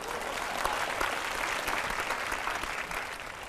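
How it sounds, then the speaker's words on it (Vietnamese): A studio audience at a Vietnamese comedy show applauds warmly, dense clapping from many hands that holds steady for a few seconds. "xin cho một tràng pháo tay cổ động"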